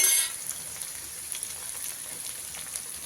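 Ginger and green chilli fry in a pan for Kashmiri aloo dum, a faint, steady crackling sizzle with light spattering pops, following a brief louder burst at the start.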